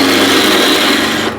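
Wood lathe spinning at full speed while a 3/4 inch continental spindle gouge cuts the blank, giving a steady, loud, close-up rasping shave with a constant hum beneath and an abrupt drop as the cut lifts off at the end.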